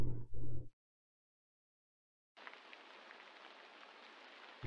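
Rain in the video game Insanity, a steady hiss of falling drops with faint scattered patters that fades in after a brief low thump and a moment of silence.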